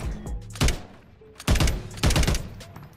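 Taq Evolvere rifle fire in Modern Warfare 3: three loud bursts of rapid shots, the last two close together, each a sharp cluster of cracks between quieter game ambience.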